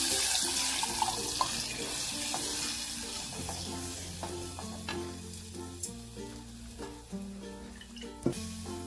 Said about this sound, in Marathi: आणि हे ताक आता ओतून घेऊया.